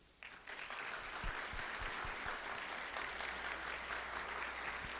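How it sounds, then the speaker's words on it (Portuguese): An audience at an event on tax reform and the economy breaks into applause for the sponsors, clapping starting abruptly and continuing as an even, moderately distant roar with a few louder close claps. "eu vou pedir um aplauso"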